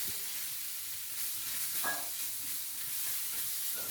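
Steady sizzling and crackling of blended chili paste stir-frying in hot oil in a pan, with occasional soft scraping as it is stirred; no voices.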